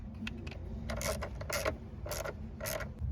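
An 8 mm bolt tightened on a Ford F150 battery terminal: a series of close, quiet ratcheting clicks in short bursts separated by brief pauses.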